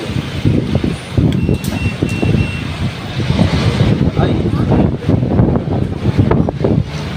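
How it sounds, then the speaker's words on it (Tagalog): Strong wind blows outdoors and buffets the microphone, a loud, gusty low rumble that surges and fades throughout. "It is very windy today."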